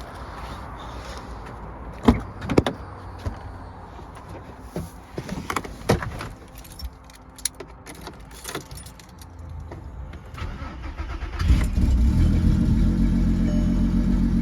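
Keys jangle and a few clicks and knocks sound inside a VW Golf R32 turbo, then the engine turns over and settles into a loud, low rumbling idle.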